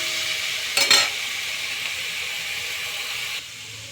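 Food frying in a pan while it browns in a home kitchen, a steady close sizzle with a brief louder burst of stirring near the start.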